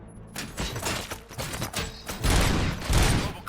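Rapid bursts of gunfire from the RoboCop: Rogue City video game crackle in quick succession, loud and dense, with heavier volleys near the end.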